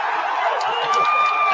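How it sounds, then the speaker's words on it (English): A large NFL draft crowd roars in a steady, dense wash of cheering that holds at full volume throughout, with no single voice standing out. "Listen to this crowd."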